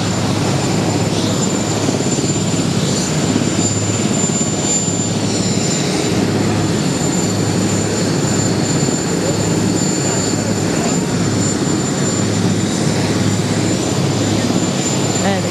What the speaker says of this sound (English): And chopper is ready to take off.